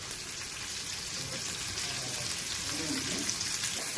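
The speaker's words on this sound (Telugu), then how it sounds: "పచ్చిమిర్చి, కరివేపాకు వేసిన తర్వాత ఇలా ఉల్లిపాయలు వేయాలి. లో ఫ్లేమ్ మీద చేసుకోవాలి." Onions frying in oil over a low flame with green chillies and curry leaves, giving a steady soft sizzle and crackle, moderately close.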